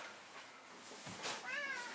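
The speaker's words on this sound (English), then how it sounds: "Nice kitty." A cat meows indoors, a faint short call near the end after some quiet shuffling and a soft thump.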